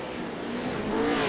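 A race car engine in the iRacing offroad video game revs steadily at high pitch, a continuous loud drone that rises slightly toward the end, with no talk over it.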